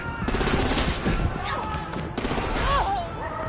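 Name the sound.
gunshot in Batman: The Enemy Within video game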